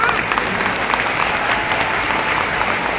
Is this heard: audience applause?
yes